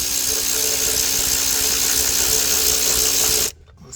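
A power tool driving a Torx 45 bit loosens a screw on the water pump of a Mercedes ML350, giving a loud, steady close-up whirring buzz for several seconds that stops abruptly near the end, leaving quiet handling noise.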